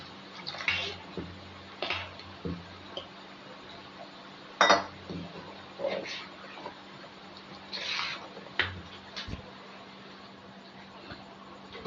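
A semolina and curd batter for appam is mixed by hand with a splash of water, giving irregular wet squelches and clinks of a spoon against a bowl, close and fairly quiet.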